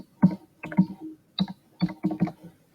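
Close, crisp keystrokes on a computer keyboard while an email is typed, clustered in short irregular bursts with brief pauses, and no voice heard.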